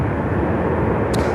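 An American Airlines Boeing 777-200 arriving from Barcelona comes in to land with a dense, steady low jet roar, loud and continuous, with a brief brighter hiss near the end.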